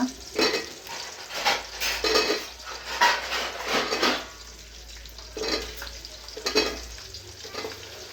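Carrots, green chillies and chopped vegetables for a veg biryani fry in a pan under steady, rhythmic stirring, with repeated scraping strokes over a continuous sizzle.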